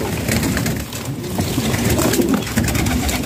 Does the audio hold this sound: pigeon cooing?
yes